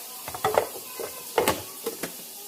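Chopped onion tumbles into a pot for farmhouse beef stew, giving a few scattered clattering thumps and stirring sounds with a soft sizzle, fairly close and with no talk.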